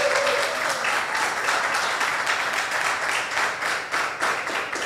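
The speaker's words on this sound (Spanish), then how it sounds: "Vamos a dar un fuerte aplauso a todos los que estamos presentes." Church congregation of around twenty people applauding together in a church, steady loud clapping lasting several seconds with a brief voice at the start.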